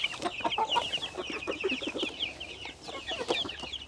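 Backyard hens cluck steadily in a garden, a busy overlapping chorus of short clucks and chatter, close and continuous, with no talking.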